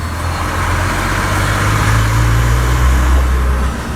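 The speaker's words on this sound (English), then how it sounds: "can even hear the exhaust" A Volvo FMX 480 8x4 tipper truck engine rumbles steadily with a deep exhaust drone, loud and close, swelling slightly as it pulls.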